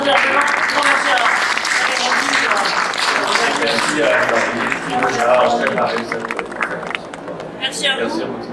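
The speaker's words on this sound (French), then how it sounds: "je vous propose qu'on applaudisse notre intervenant" An audience claps steadily for a speaker at a question-and-answer session, loud and sustained for several seconds with some crowd murmur mixed in, thinning slightly toward the end.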